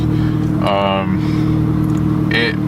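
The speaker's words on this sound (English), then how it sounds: "I'm letting the car warm up right now because I'm about to head to work." A MK4 Volkswagen Jetta/Golf engine idles steadily while warming up, a continuous low hum with tonal harmonics and two brief higher-pitched bursts layered over it.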